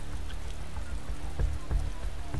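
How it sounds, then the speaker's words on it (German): Rain falling in the Motorsport Manager racing video game, a steady hiss and patter with a few louder drop-like hits, alone at a moderate level. "Viel Regen."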